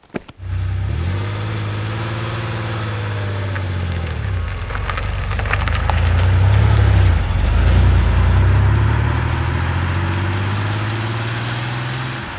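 A 1993 Porsche 964 3.6 Turbo driving, its engine pulling steadily with rising and falling revs through gear changes, a loud close-up mechanical drone with whooshing air that builds mid-run, then settles.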